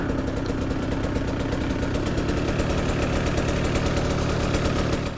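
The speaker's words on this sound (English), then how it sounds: "this bike, the Husqvarna TE150, is a very nimble woods bike" Husqvarna TE150 two-stroke dirt bike engine running steadily close by. A fast, buzzing, evenly pulsing drone with a rattly edge that holds at a constant level, then cuts off at the very end.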